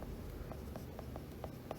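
Chalk or marker writing on a board during an electrical technician exam lecture, a steady faint scratchy texture with soft, regular stroke taps about every quarter second, alone with no talk.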